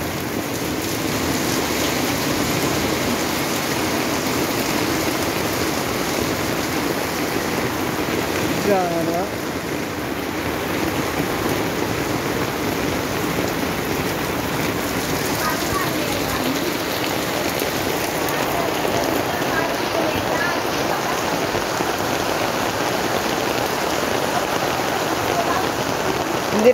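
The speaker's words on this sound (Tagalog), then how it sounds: "Ulan na, inabot na po tayo ng ulan." Steady rain pours down outdoors, a dense, continuous hiss of drops hitting surfaces that stays loud and even throughout, with brief speech now and then.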